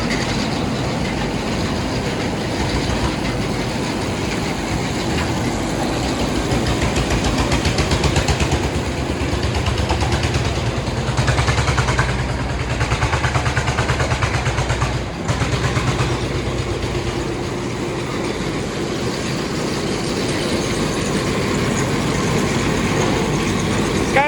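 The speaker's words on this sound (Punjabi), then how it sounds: "ਮੋਟਰ ਆ ਬਈ ਆਹ 20 ਦੀ ਮੋਟਰ ਆ" A 20 hp motor driving a corn silage baling machine runs continuously with a loud, steady mechanical rumble and rattling clatter that stays even throughout.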